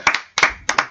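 A few people clap together in a studio, three or four short bursts of sharp hand claps with brief pauses between them, close and fairly loud.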